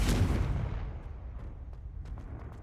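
A Confringo fire spell in Hogwarts Legacy strikes with a single loud, deep blast at the start, then a long rumbling decay with faint crackles trailing off, with no voices heard.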